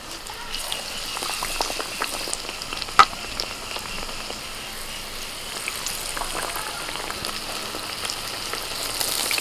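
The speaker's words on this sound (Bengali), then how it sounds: "তেল গরম হয়ে গেছে, এবার একে একে কুমড়োনিগুলো ভেজে নেব" Pumpkin slices coated in gram flour batter fry in hot oil, giving a steady, close sizzling hiss that runs throughout with one brief sharper crackle early on.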